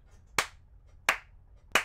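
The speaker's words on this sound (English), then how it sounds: "Start the slow clap" Three slow, evenly spaced hand claps, each sharp and isolated with quiet gaps between, close and fairly loud.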